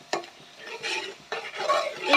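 A spoon stirs turmeric and salt into fried onion paste for a curry, giving a few scraping, squelching strokes with a faint sizzle between them, close and fairly quiet.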